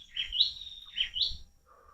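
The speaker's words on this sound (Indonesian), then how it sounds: "banyak sekali suara burung-burungnya." Birds in a garden, a single bird giving two clear rising chirps close by and then a fainter distant call, with a little low background noise and no talking.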